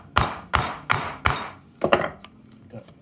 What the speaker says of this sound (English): So you chop down and you pare out the waste from the end.